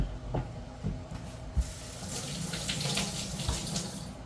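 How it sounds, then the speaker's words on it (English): Peeled sweet potatoes being washed under a running kitchen tap before canning, water splashing and gushing into a sink with occasional knocks and clatters, fairly close and moderately loud. "Now I'm washing them."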